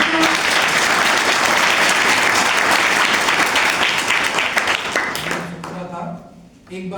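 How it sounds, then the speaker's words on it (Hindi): A church congregation at a Sunday service breaks into loud, dense applause that carries on for several seconds and then tapers off as a voice begins speaking over it. "प्रभु की महिमा के लिए आप ताली बजा सकते हैं"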